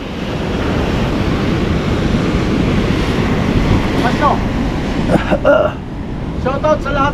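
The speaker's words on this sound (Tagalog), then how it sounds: "Malakas yung alon pero mababaw, low tide" Strong surf rolls steadily at a shallow shore at low tide, with loud continuous wash and wind buffeting the microphone, and bits of faint background sound near the end.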